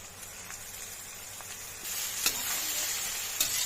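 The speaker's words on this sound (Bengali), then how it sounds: "এবার ভালো মতো নাড়াচাড়া করে ভাতটা ভেজে নিতে হবে।" Par-boiled rice fries in a pan with a faint, steady sizzle while being stirred, light scraping taps scattered throughout and growing slightly louder toward the end.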